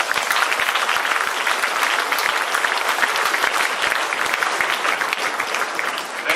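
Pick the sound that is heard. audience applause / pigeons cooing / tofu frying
audience applause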